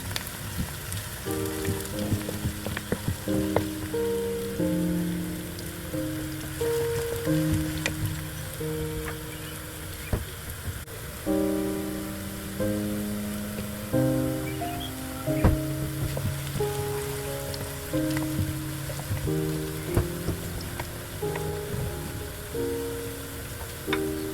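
Onions fry in a pan for a mutton yakhni pulao, giving a steady close sizzle, with musical tones running underneath.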